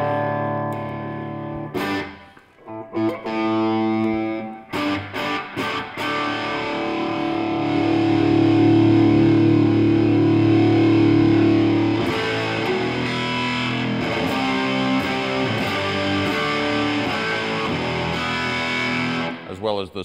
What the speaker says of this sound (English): We can get into those little bit lower gain drive tones as well.